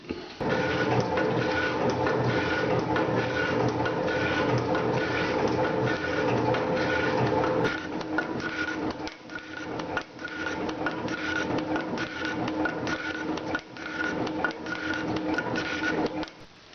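A metal shaper machine runs while machining a vise jaw, its steady mechanical drone and rumble continuous and close, with a regular rhythmic clatter from the ram strokes and no talking.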